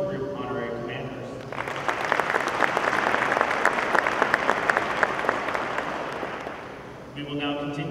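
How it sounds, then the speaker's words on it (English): Audience applause for the outgoing and incoming 366 Mission Support Group honorary commanders at a change-of-command ceremony, a sustained crowd clapping of several seconds, framed by a speaker's voice before and after. "Please join me in a round of applause for our outgoing and incoming 366 Mission Support Group Honorary Commanders"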